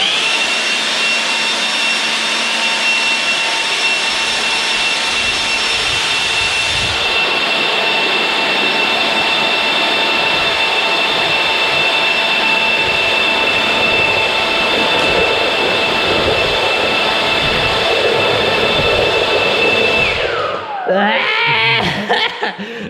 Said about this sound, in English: I've got my sweet little Milwaukee blower here in one hand